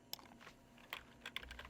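A few quick keystrokes come from a computer keyboard as a short line of code is typed, close and quiet, spaced irregularly, with no speech.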